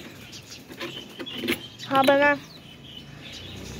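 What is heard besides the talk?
pigeons calling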